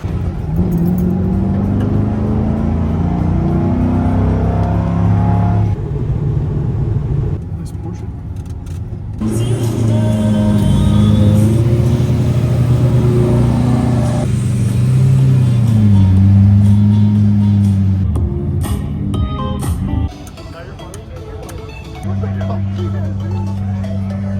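Custom vintage Ferrari V12 running on all 12 cylinders, a loud, close engine idling and revving in repeated swells with shifting pitch, and people talking in between.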